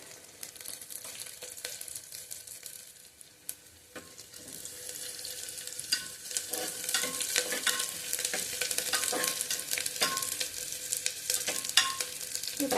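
Large-cut onion pieces sauté in a pan, with a soft steady sizzle that grows louder midway and frequent close scraping stirs at an irregular rhythm.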